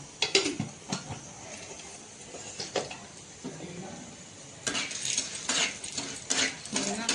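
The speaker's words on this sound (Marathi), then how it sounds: "हलवत राहा" Chana dal roasting in oil in a pan while a spoon stirs it, giving a soft sizzle with scattered metallic scrapes and taps against the pan, close and moderately quiet.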